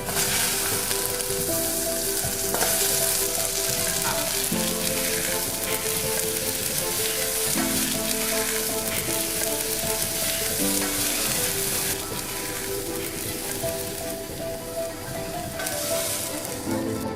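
Tomatoes fry in hot oil in a pot as the base for a sour Thai fish soup with suki fish and pineapple, giving a steady, loud, close sizzle that runs throughout with faint tonal music beneath.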